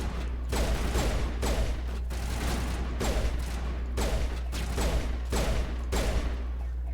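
Pistol gunfire in the video game Mass Effect, a series of sharp, loud shots in irregular bursts over a steady low rumble of combat, close up, with no talking.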